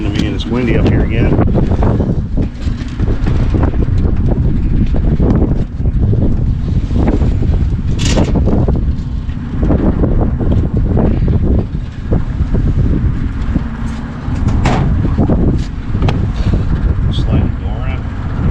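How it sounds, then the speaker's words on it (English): Strong wind buffets the microphone in loud, continuous gusts on a rooftop beside Lennox rooftop units, with people talking intermittently underneath the roar. "it's windy up here again."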